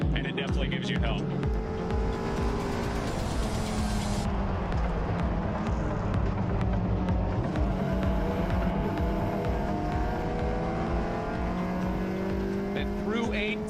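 Race cars braking hard and cornering through the elevation change into a braking zone at the Road America circuit during a GRIDLIFE event: steady engine roar and tire noise, continuous and fairly loud, with a commentator talking over it.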